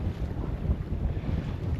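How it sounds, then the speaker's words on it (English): Steady wind roars over open water from a sailboat heading out to East Bunker Ledge off Mount Desert Island, Maine, a continuous low rumbling buffet against the microphone with no voices. "The wind picked up a little bit."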